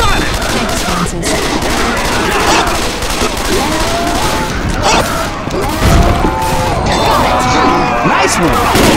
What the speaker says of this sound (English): Grenades here! Fire in the hole!